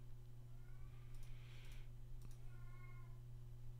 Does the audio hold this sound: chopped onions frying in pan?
no